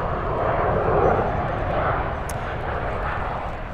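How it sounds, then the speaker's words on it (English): A private propeller plane passes overhead, its engine drone swelling to a peak and then easing off slightly, a loud, steady roar heard alone. "Nice private plane going overhead."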